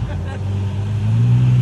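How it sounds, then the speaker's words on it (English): A Lamborghini Huracan Evo pulls up at a Lamborghini rally event, its engine a steady, fairly loud low rumble that grows slightly louder toward the end, with faint crowd chatter in the background. "And this guy, Huracan Evo, pulling up"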